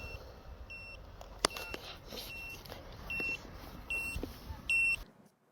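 Short electronic low-battery warning beeps from a WalleFPV Lightning3 FPV drone repeat in bursts, some grouped as double tones, over a steady background hiss, stopping abruptly near the end.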